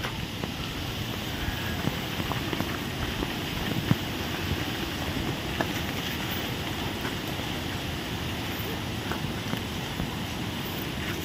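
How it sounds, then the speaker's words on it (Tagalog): Strong Typhoon Gener wind roars steadily across a farm with banana, rambutan and papaya plants, a dense continuous rush with faint gusty bumps and no talk. "Sa lakas ng hangin."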